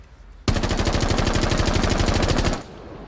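An AR-33 rifle in Rainbow Six Siege fires one loud, sustained full-auto burst of rapid, evenly spaced shots lasting about two seconds, with no talking.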